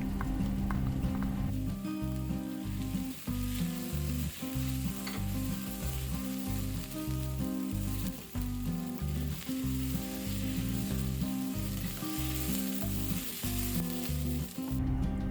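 Jalapeno and red chilies frying in a pan while cooking a veggie chili, giving a steady, close sizzle that runs throughout with a regular rhythmic pulse underneath.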